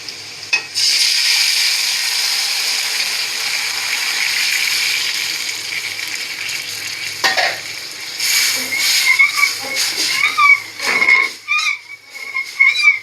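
A pot of boiled milk for sheer khurma hisses and is stirred, a steady sizzling wash that breaks into clinking, scraping spoon strokes and splashy bursts toward the end.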